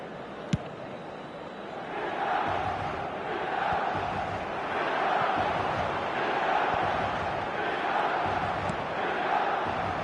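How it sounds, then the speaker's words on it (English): Stadium crowd in the eFootball soccer game gives a broad, swelling cheer that rises and falls in waves over ten seconds, moderately loud and diffuse, with a sharp click near the start. "at least the crowd are appreciative of his efforts"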